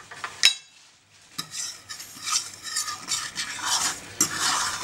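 Semolina is stirred in olive oil in a frying pan, with a sharp utensil clack, a brief pause, then rustling, scraping stirring and faint sizzle, close up and with no talking.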